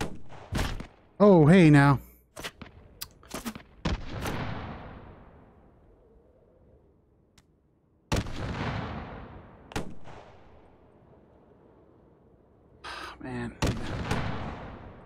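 Gunfire in the VR shooter game Hot Dogs, Horseshoes & Hand Grenades, loud sharp single shots with decaying echoes, spaced irregularly with quiet gaps and a cluster near the end; someone talks briefly between shots.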